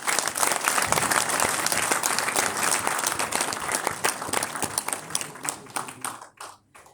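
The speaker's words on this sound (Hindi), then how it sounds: "जोरदार तालियां बजा दो।" Audience in a hotel hall in Zirakpur applauding loudly, dense sustained clapping from many hands that thins out and fades in the final second.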